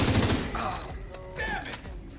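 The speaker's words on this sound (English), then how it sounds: "I'll provide cover fire" Gunfire in The Division 2 opens with a dense, loud rattle of rapid shots, then fades into scattered, more distant reports and sharp cracks against a game soundscape.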